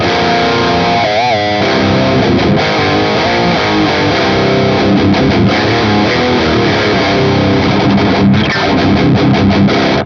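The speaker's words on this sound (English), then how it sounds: "the distortion characteristic is pretty fuzzy and pretty loose" Loud, fuzzy distorted electric guitar through a Satanist distortion preamp pedal, playing chords and riffs, thick, saturated and loose, continuous and with no talking.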